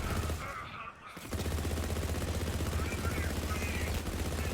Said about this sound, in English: its rate of fire is quite marvellous. Firing from the hip is kind of cool.